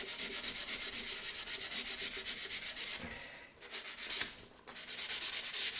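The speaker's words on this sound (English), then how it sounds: "it will sand out any of the sanding marks that the rubber grits put in across the grain" Rhythmic back-and-forth sanding strokes rasp steadily on a wooden chessboard frame, briefly pausing and shifting midway before resuming the same even scrubbing pace.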